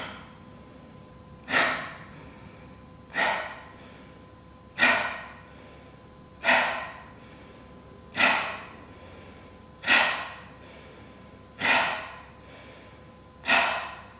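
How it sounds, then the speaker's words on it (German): Kapalabhati yoga breathing: eight forceful, evenly spaced nasal exhalations, each a sharp loud burst of air about every 1.7 seconds, with quiet passive inhales between them. "Kapalabhati ist der aktive Ausatmen und der passive Einatmen."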